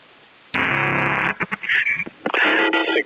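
Radio static on the 11m freeband, a broad hissing white-noise wash that cuts in abruptly, breaks into choppy bursts with a brief whistling tone, then returns steady and loud.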